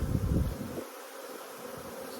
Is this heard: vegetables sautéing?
no